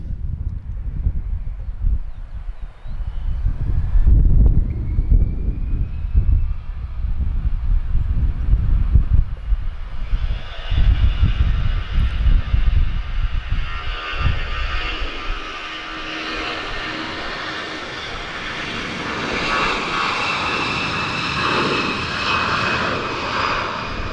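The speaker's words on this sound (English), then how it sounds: "Oh, have we got a A330 pushing back as well?" An Airbus A330 pushing back at Lisbon Airport builds from low rumbling into a loud, steady jet engine whine that holds through the second half, with no talk over it.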